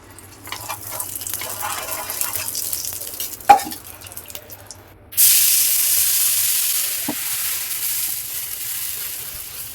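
Moong chana dosa on a pan in ghee: faint stirring and clatter with a sharp knock, then a loud, steady hiss of sizzling that holds for several seconds, with no speech.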